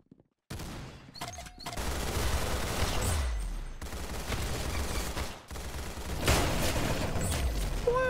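Rapid gunfire from a shooter video game fills the scene, sustained bursts of automatic shots after a brief quiet start, loud and close with no pauses for talk.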